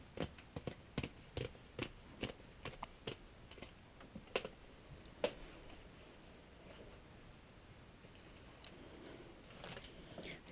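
Scissors cut through a woven wool placemat in a run of crisp, evenly spaced snips up close, then taper off into quiet rustling.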